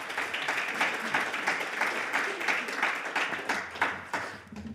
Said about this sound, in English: Round of applause for Paul.